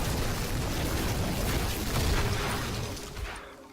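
Corpse explosion skill of a Necromancer in Diablo 3, a dense rumbling burst of blasts that holds steady, then fades away near the end.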